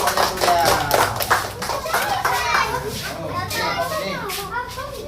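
A class of third-grade children clap for a group during a multiplication snakes-and-ladders game, scattered claps under lively chatter and children's voices throughout, close and busy.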